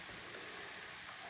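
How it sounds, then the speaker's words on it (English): Ground lamb browns in a 12-inch Lodge cast iron skillet, giving a steady, close, rain-like sizzling hiss with no talking. "we've got the meat browning in our iron skillet"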